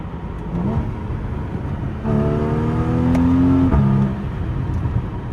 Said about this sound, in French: On a un claquement très plaisant au passage de rapport.